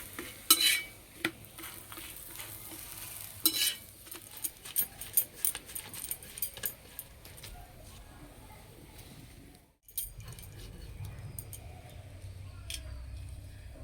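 Spinach paratha frying in a pan gives a low, faint sizzle under scattered clicks and taps of a utensil against the pan, with a brief pause before the frying resumes.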